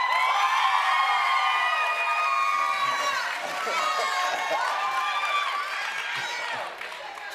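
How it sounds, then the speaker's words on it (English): Studio audience at a television talk show cheers, screams and claps in a loud, excited roar that dips briefly midway, then surges again before tapering off. "Clap if you think it ought to be Mel"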